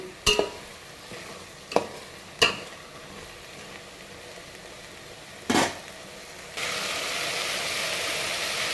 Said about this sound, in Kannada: ಇದು ಎಣ್ಣೆಯಲ್ಲಿ ನೀಟಾಗಿ ಫ್ರೈ ಆಗೋವರೆಗೂ